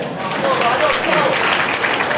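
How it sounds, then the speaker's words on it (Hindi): Dense, continuous applause from a crowd at a community awards ceremony for students, steady and loud for the whole stretch, with voices mixed in underneath. "तो एक बार इन बच्चों के लिए जोरदार तालियां हो जाए।"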